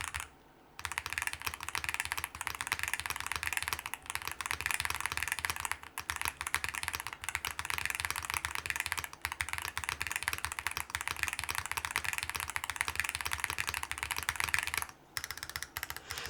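Rapid, bright clacking of typing on an ND104 office keyboard with tactile switches, a dense, continuous stream of close keystrokes with occasional brief pauses and deeper spacebar thuds.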